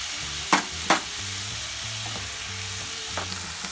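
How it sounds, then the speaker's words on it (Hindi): Chopped tomatoes sautéing with spices in a pan for a tomato chutney, a steady close sizzle with a few sharp clinks of a spoon stirring early on, no voices. "और इन्हें मैं पैन में इसी तरीके से मसालों के साथ सौते करूंगा 1 मिनट के लिए"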